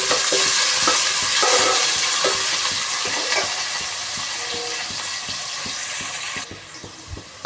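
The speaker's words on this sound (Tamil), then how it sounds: "அது கூடவே கருவேப்பிலையும் போடணும். அதெல்லாம் வதக்கணும்." Onions and curry leaves frying in hot oil for a South Indian fish curry: a loud, close, continuous sizzle broken by regular scraping stirs of a spatula against the pan, with no voices.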